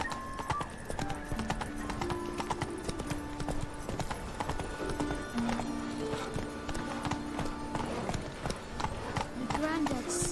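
A horse gallops in The Witcher video game, its quick, steady hoofbeats rattling continuously and close, layered with music and a voice.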